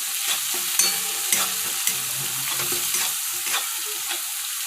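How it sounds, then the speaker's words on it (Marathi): Cabbage being stirred in a pan with salt and turmeric: a spatula scrapes and taps repeatedly over a continuous light sizzle, several distinct knocks standing out, with no voices. "आता यात चवीनुसार मीठ टाका हळद कलर येण्यासाठी आणि तो हे व्यवस्थित मिक्स करून घ्या"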